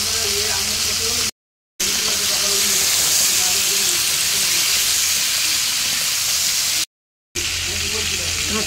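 Potatoes and carrots sizzling in hot oil while cooking a Bengali dish: a loud, steady frying hiss that fills the whole clip, cut by two brief silent gaps.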